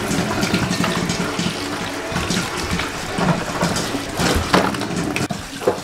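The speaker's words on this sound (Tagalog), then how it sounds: "Hugasan natin sa tubig, tapos na ito." Running tap water pours steadily into a sink, splashing and gurgling as pork or chicken skin is rinsed under the stream, close and continuous.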